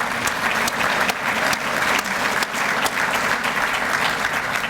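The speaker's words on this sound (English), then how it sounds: "So give a round of applause for those." Guests at a chamber of commerce community luncheon applaud sponsors, a loud, close, continuous patter of many hands with a few sharper claps standing out.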